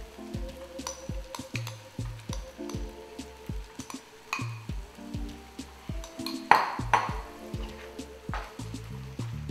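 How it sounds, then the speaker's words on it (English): Mac and cheese going into a hot skillet gives a soft, sizzling frying hiss with repeated scraping and stirring clicks of a utensil against the pan, close and moderately quiet, with no voices. "you can hear that mac and cheese sound as you're adding it to the skillet"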